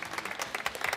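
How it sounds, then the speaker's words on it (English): Brief scattered applause from an audience cheering product pitchers at a 60-second pitch contest, soft patchy claps building toward a louder burst at the end. "Give them a round of applause"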